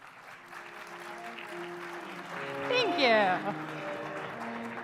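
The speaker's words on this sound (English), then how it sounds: "everyone give a round of applause for Laura as she comes to the stage" A conference audience at a security forum claps for a speaker coming on stage, a moderate steady patter under a voice that talks, with a brief swell of cheering midway.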